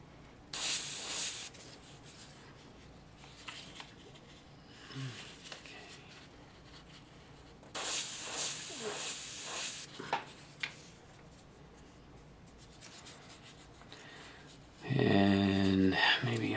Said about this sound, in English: I'm not spraying on the board itself.